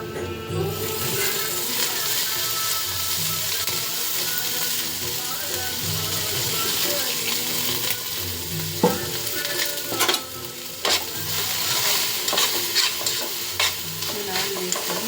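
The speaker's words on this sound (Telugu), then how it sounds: "ఇలా బాగా ఆయిల్లో ఫ్రై చేయాలండి" Food frying in oil in a pan while being stirred with a spoon, a continuous loud sizzle with scraping stirs and occasional sharp clinks and pops, no one talking over it.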